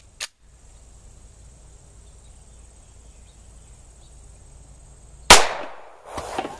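A .45 ACP Colt automatic pistol fires a single sharp, loud shot at a steel glasses case, followed by a short decaying ring. A fainter click comes at the very start and a smaller impact follows near the end.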